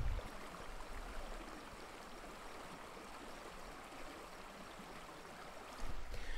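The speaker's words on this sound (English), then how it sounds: "You can hear the river in the background" Small river flowing steadily, a faint continuous watery rush with soft babbling texture, heard alone at a low level and swelling slightly near the end.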